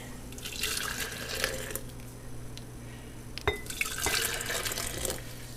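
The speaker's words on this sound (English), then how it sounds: "I'm going to pour in a little bit of boiling water to dissolve it" Boiling water pours steadily into a glass jar of dye, with a soft splashing rush and a couple of light clinks of glass.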